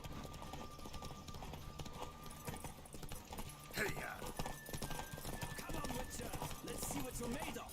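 Steady galloping hoofbeats from a horse in The Witcher 3 with a whinny partway through. Chatter and game sounds sit on top, and the racket grows louder in the second half.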